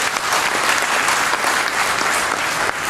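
Loud, sustained applause from an audience, a thick continuous roar of clapping at close range with no pauses and no speech rising above it.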